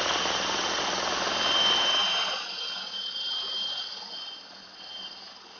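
An electric drill roars loudly, driving a grain mill crushing grain into a 5-gallon bucket for brewing, with a grinding whine that drops in intensity after a couple of seconds and continues more quietly.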